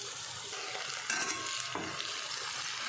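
Onions with salt frying in a pan, a steady close sizzle with light scraping and stirring across the surface.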